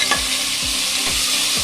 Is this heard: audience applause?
no